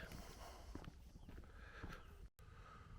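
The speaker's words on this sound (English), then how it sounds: "There's somebody coming along with a horse now, with a kid on it." A horse walking along a road outdoors with a child riding it, hooves giving a few soft uneven clip-clops, faint and somewhat distant, with a brief dropout near the end.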